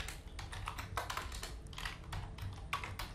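Rapid keystrokes on a computer keyboard while HTML code is written, a quiet, steady patter of clicks with a few louder taps, heard alone and close up.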